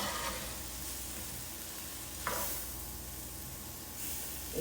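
Cauliflower sizzles steadily in a stir-fry pan with shrimp, a constant close hiss marked by a brief clatter of tossing partway through.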